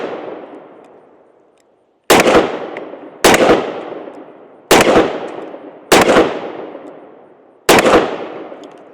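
A Desert Eagle XIX .50 AE pistol fires five loud, sharp shots at uneven intervals. Each blast rings out with a long, echoing decay, and no one speaks.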